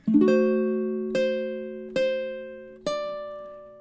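Four chords strummed on a baritone ukulele, each ringing out before the next, evenly spaced and fairly quiet.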